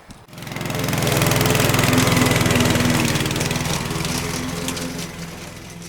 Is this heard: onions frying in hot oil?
no